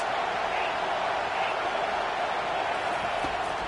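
Dense, steady roar of a big stadium crowd cheering, a constant wash of noise with no breaks.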